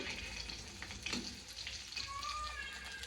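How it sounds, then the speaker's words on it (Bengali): Onions frying in a pan over a low, flickering gas flame, a soft, fairly quiet sizzle with faint stirring clatter and a brief tap-like trickle. "মাত্র পেঁয়াজগুলো ভাজা হয়েছে আর গ্যাসের এই নিভু নিভু অবস্থা"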